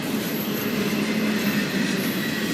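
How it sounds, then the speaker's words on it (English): A Norfolk Southern southbound intermodal freight train rolls steadily past at close range, its railcars producing a continuous loud rumble with a faint wheel squeal. "The bottom of the train's getting ready to pass."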